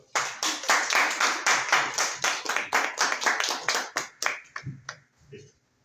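A small group claps in quick, fairly regular beats for about four seconds before the clapping thins to a few scattered claps and fades out; voices murmur underneath, at a Spanish-language literary event on microfiction.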